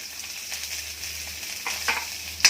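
Ginger frying in a pan, with a soft steady sizzle and a few light stirring scrapes and taps near the end, close and fairly quiet.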